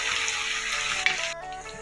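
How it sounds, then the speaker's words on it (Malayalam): Curry leaves, green chili, ginger and garlic sautéing in heated oil in a pan: a steady, close, bright sizzle hisses continuously, then drops away abruptly near the end, with no talking. "കറിവേപ്പില ഇട്ട് പച്ചമുളക്, ഇഞ്ചി, വെളുത്തുള്ളി എന്നിവയിട്ട് നമുക്കൊന്ന് വഴറ്റിയെടുക്കാം"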